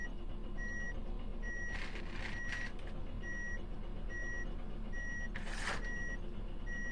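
Bus turn signal in the OMSI bus simulator game, a steady repeating electronic beep at an even rhythm over a constant engine hum, with brief hissing bursts in between and no talk.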